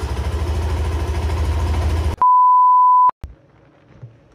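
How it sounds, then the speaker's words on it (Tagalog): A Yamaha NMAX 2020 scooter engine idles with a low, steady rumble for about two seconds while warming up after an oil change, cut off by a long electronic beep, followed by quieter clicks and faint noise. "Painitin lang natin siya para umikot yung langis sa makina niya."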